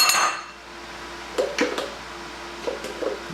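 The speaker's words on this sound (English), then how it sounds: "So now we can scoop that back out into your big bowl." Thick pumpkin filling for pumpkin and goat's cheese ravioli scooped into a big bowl: a few soft clinks and scrapes of a utensil against the bowl, close and moderately loud, in short separate bursts with quiet between.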